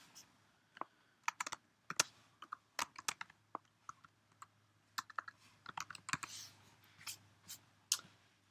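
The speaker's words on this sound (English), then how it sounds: "And I'm going to type his name" Quick bursts of keystrokes on a computer keyboard, uneven clicking taps with short pauses, close and fairly quiet, as a name is entered.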